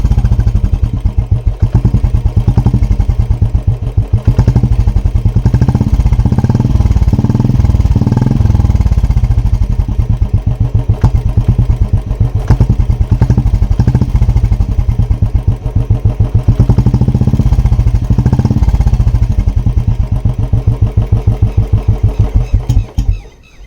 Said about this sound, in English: So this is the normal sound of the Indore exhaust which I have been using.